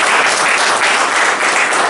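Audience applause at a journalists' association award ceremony in Chauri Chaura, a dense, steady wash of clapping hands filling the short stretch at close range with no speech over it.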